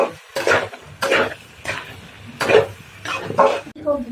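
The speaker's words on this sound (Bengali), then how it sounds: "এদিকে আমি মাংস চুলাই দিচ্ছি" Meat being stirred and braised in a pot on a stove, ahead of becoming a roast: about five close, rhythmic scraping strokes with faint clinks against the pot.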